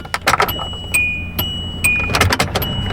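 A 2010 Hyundai Accent's warning chime rings out in clear repeated electronic dings with a sustained tone between them, over jangling keys and a faint low background rumble.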